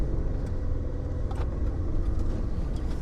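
Jeep Liberty pushing through deep snow in blizzard conditions, its engine giving a steady, loud, low rumble throughout with no breaks, driving with speed and power.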